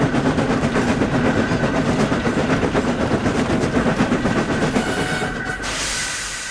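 Henry, a steam engine, pushes two diesels and their trains along the line, a loud, close rhythmic clickety-clack of wheels over rail joints with a hiss, then the rumble shifts and eases near the end.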